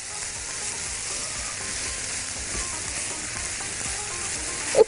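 Rice, lentils and vegetables for mujaddara with carrots sauté in a pot, giving a steady close sizzle with scraping stir sounds throughout and a brief louder clunk at the very end, with no talking.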